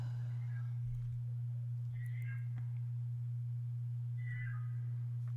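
Two or three short, faint meows from a cat come and go over a loud, steady electrical hum, with no speech.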